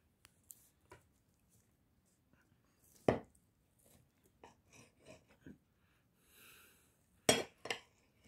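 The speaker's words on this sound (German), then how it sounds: "Also ich hack's jetzt durch." A knife chops through food on a board in a few sparse, sharp knocks separated by quiet gaps, with light clinks and handling sounds in between.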